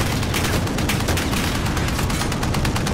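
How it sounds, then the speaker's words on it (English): Dense, continuous gunfire and explosions from tanks shooting in a Call of Duty: Modern Warfare Spec Ops mission, a loud unbroken barrage with no pauses throughout. "There's tanks right out there shooting at us."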